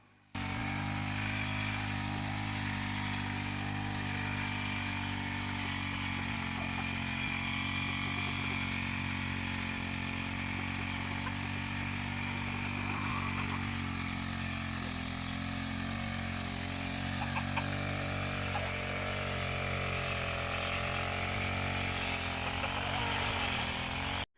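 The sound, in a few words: grass cutter trimming tall grass in a field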